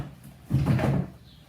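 A homemade wooden flip-out trash can bin drawer swings open or shut, one soft, dull wooden thud with a short rumble, heard close in a quiet room.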